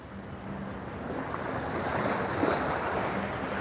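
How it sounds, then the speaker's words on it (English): Ocean surf at Waikiki at sunset, a steady broad wash of breaking waves with some wind noise on the microphone, building slightly in the middle and continuous throughout. "you guys could at least hear the waves"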